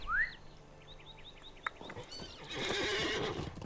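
A horse in the LOTRO video game whinnies with a rising, sharp call, then its hooves clip-clop in a quick trotting rhythm while short chirps sound nearby, ending in a louder rush of movement.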